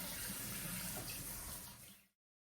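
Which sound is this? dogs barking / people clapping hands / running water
running water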